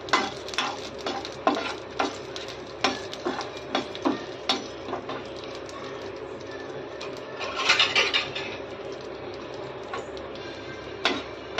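Dried red chillies crackle and sizzle in hot oil in a pan, with irregular scraping and stirring knocks at close range and a brief louder burst of frying midway, no talk.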